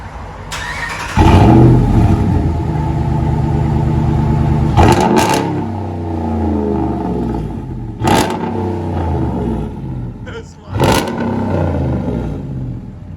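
A Dodge Ram Big Horn edition pickup with dual exhaust starts up and revs several times, each loud blip rising sharply and dropping back to a rumbling idle, with no talking.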